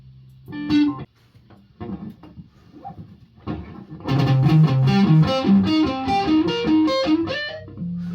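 An electric guitar played through an amplifier during an album recording session, with effects and distortion: a few scattered picked notes and chord stabs first, then a loud, sustained run of distorted notes ringing close up.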